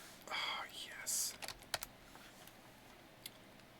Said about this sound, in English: time to use my international keyboard